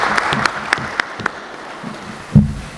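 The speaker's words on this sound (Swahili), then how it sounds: "tuwapigie makofi" A small audience at a workshop in Iringa gives sparse, scattered handclaps, a few sharp individual claps spaced apart rather than full applause, ending with a louder knock-like thump.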